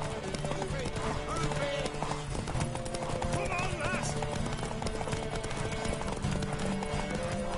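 A horse gallops in The Witcher 3, with a steady, fast clip-clop of hooves running throughout amid busy game sounds and overlapping voices.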